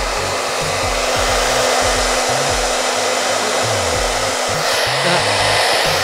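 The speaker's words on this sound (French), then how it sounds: "Sèche-cheveux, sèche-cheveux sert à démêler." A hair dryer roars steadily at close range, blowing over paint floating in water, and its loud even airflow hardly changes for the whole stretch.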